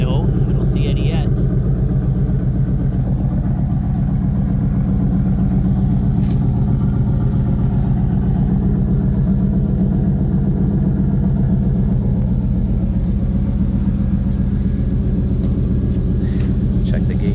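A 1991 Formula snowmobile engine runs at a steady low idle, a constant close rumble that holds for the whole stretch, with a few faint clicks on top and no talk.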